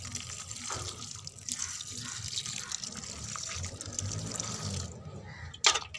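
Dissolved urea fertilizer solution is poured steadily from a container onto young onion plants, a close, continuous splashing trickle that ends with a brief clatter.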